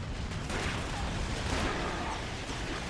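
Dense, continuous gunfire and blasts from a Resistance video game demo roar steadily throughout, loud and heavy with overlapping shots.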